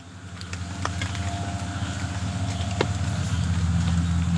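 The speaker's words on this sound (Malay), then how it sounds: "Bunyi macam kerja enjin." A continuous low engine rumble runs throughout, steady and fairly loud, with faint clicks and rattles on top.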